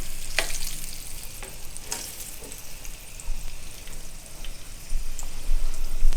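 Egg rolls fry in hot oil over moderate heat, giving a steady close crackling sizzle with scattered sharp pops that grows a little louder toward the end.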